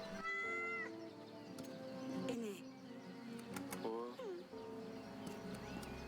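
A cat meowing in the medieval kingdom-management video game Yes, Your Grace, several short tonal meows up close over soft background music, with a character speaking around them.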